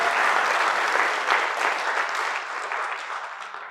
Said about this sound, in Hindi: तो आप सभी के लिए जोरदार तालियां